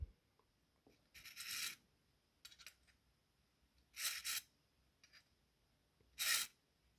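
Harsh rasping from cutting away part of a PS3 integrated heat spreader, coming in three short separate bursts with quiet pauses between them and no voices.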